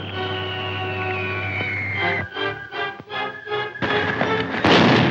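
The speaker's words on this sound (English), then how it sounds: "Khan then orders Atlantis to be bombed." Bombing explosions from the 1936 serial Undersea Kingdom: a falling whine gives way to a run of heavy booms and rumbling blasts, loud and close, ending in a harsh crash.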